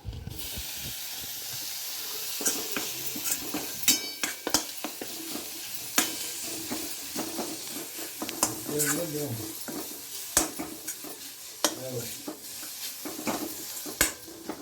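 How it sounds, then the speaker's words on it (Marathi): Chopped tomatoes fry in an oily pan in a village kitchen, with steady sizzling and hissing broken by repeated scraping stirs and spoon knocks over about fifteen seconds. "आता त्याच्यात टमाटे टाकते."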